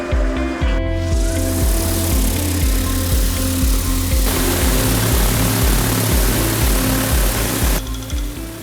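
Chinese-made agricultural drones fly over an orchard, their propellers giving a loud, continuous buzzing drone with a pulsing rotor beat that holds steady throughout.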